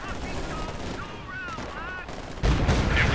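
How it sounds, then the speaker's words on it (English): Walking Stuka rocket barrage in Company of Heroes 2, a video game: rapid strings of rocket impacts and crackling gunfire, with whistling incoming sounds in the middle and a heavier rumble at the end, loud and continuous. "Comes another walking Stuka barrage."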